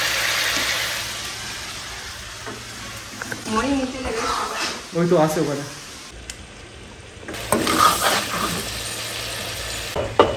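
Chicken sizzles in a pot with occasional stirring scrapes, a steady frying hiss under a person talking, with a rain-like wash building later.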